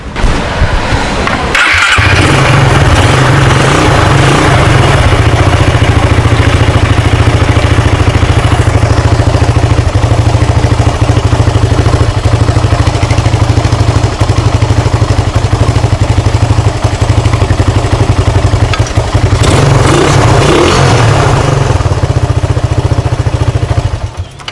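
A motorcycle engine starts and runs loudly and close by, with a steady rough idle and revs rising briefly near the start and again toward the end.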